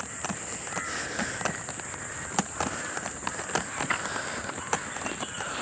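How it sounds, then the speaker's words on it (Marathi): Birds call in a jungle near Mumbai. Scattered sharp calls ring out over a steady, high insect drone, with occasional faint clicks and no one speaking. "सुंदर पक्ष्यांचा आवाज"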